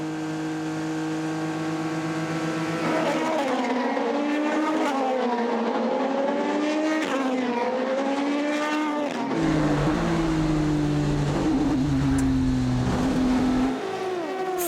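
Ford and Aston Martin race cars at the 24 Hours of Le Mans 2019, loud engines screaming through overlapping rising and falling passes, several cars roaring together up close for the whole stretch.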